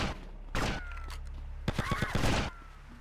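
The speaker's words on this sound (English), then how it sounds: "I can hear snipers shooting at me still." Sniper gunfire in the video game GTA Vice City, a few heavy booming shots with a dull thudding burst of rapid reports in between, at moderate loudness.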